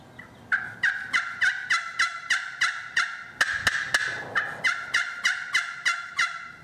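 A vintage ceramic turkey call gives a run of high-pitched hen yelps, about a dozen evenly spaced notes in two bursts with a short pause and a couple of sharp clicks between, close and clear.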